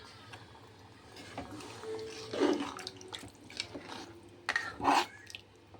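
Water is poured into a pot of mutton curry (kulambu) after the masala powders have been mixed in. Soft splashing and trickling builds to a few louder pours against a quiet background.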